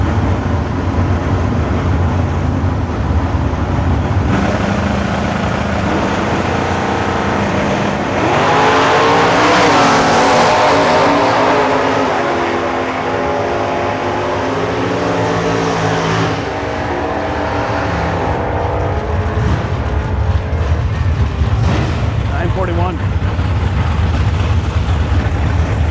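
Stock and super stock cars race at Beech Bend, with loud, continuous engine roar from several cars, revving and passing close with some tire squeal throughout.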